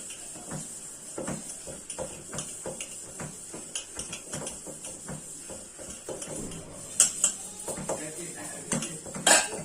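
Steel utensils and pots clatter and scrape at a kitchen sink as they are scrubbed with a wire scrubber, a steady run of knocks and rubs, with sharper metallic clinks near the end.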